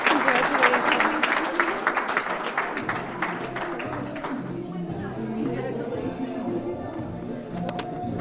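Applause from the audience at the Emma Awards 2024 ceremony fills the first half with dense, steady clapping, then thins and fades to a quieter room murmur with a few scattered claps.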